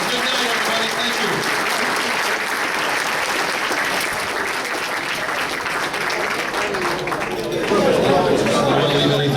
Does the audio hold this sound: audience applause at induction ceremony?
yes